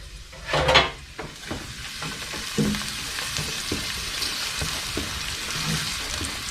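Onions sweat in a pan for zucchini stew, a soft steady sizzle with a brief clatter of stirring near the start, fairly quiet and close, no voices.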